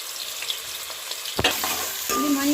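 Onions for a chicken curry sizzle and hiss steadily in a hot pan, with a couple of sharp stirring scrapes midway and a louder burst of frying toward the end, close up with no talk.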